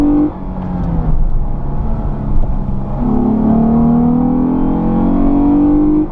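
2015 Lexus GS 350 F Sport engine revving from inside the car: a loud, close growl that dips, then climbs steadily in pitch through a long pull, with shifting harmonic tones and no voices.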